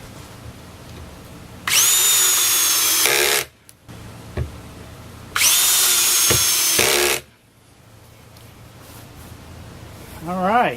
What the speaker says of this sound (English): I drill some holes with a Vicks bit